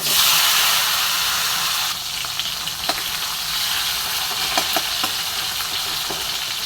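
Garlic and cumin frying in hot oil give a loud, continuous sizzle close by, easing slightly after two seconds, with a few light clicks of a spoon against the pan.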